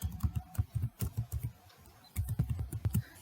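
Rapid keystrokes on a computer keyboard come in two quick bursts of crisp, close clicks separated by a brief pause.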